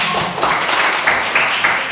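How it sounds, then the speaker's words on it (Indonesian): A classroom claps for a student named Ziada, a brief burst of close, dense hand clapping lasting about two seconds, with some voices mixed in. "Tepuk tangan buat Ziada"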